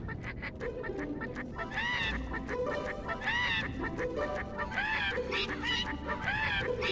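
Cartoonish birds in an aviary in the Skylanders Trap Team video game sing off-key in repeated squawking, honking phrases over a busy game soundtrack, loud and close.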